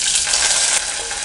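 Steady, crackling sizzle of onions and curry leaves frying in hot oil after mustard seeds have popped, close and continuous with no voices.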